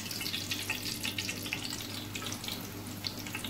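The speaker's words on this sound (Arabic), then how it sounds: "غادي ناخذ دوك الشرائح اللي درنا وغادي نرميهم هكا في الزيت باش يتشمعوا" Thin slices of dough for honeyed Moroccan pastries frying in hot oil, a steady close bubbling sizzle with crackly pops throughout.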